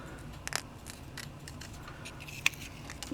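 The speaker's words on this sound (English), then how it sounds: "I just take a strip of cardstock, 110 pound, and I just cut in a half moon shape" Scissors cut a strip of 110 pound cardstock into a half moon shape: a few faint, close snips, with a quick cluster near the start and one sharper crisp snip later, over a quiet room.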